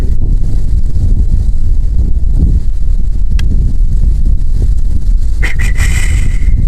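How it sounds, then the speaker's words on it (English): Strong wind blowing outdoors on a hunt, a loud, constant low buffeting roar of gusts across the microphone with a brief higher whistle near the end, and no talking. "The wind's whipping."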